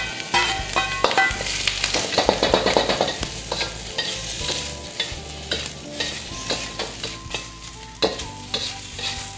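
Ginger pieces sizzle in hot cooking oil in a home wok ahead of pork trotters with dried tangerine peel, a steady close frying hiss broken by repeated clanks and scrapes of stirring, with no voices.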